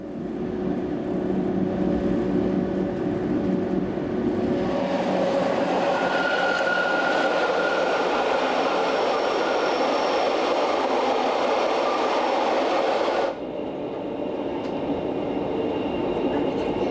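Glacier Express train on the Disentis to St. Moritz line, a steady loud rumble of rolling wheels and carriages that shifts in tone midway and drops sharply near the end, as if entering a tunnel.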